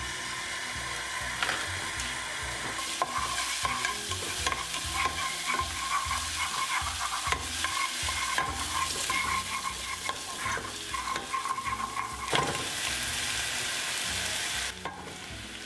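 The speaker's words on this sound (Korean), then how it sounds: "조리용 올리브유나 식용유를 좀 두르시고 다진 마늘 2티스푼을 넣고 볶다가" Minced garlic sizzles in olive oil in a pot while a utensil stirs and scrapes with repeated clatters and knocks, close and continuous, with no voices.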